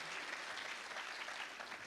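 A festival audience claps steadily in a dense, even wash of applause, faint and distant throughout.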